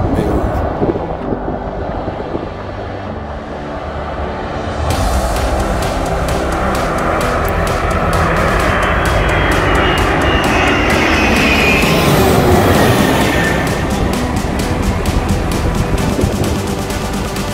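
The giant Stratolaunch aircraft landing on a runway: a building engine roar swells and grows louder as the huge plane approaches and passes close by, a broad, sustained rush of jet noise with a person talking at times.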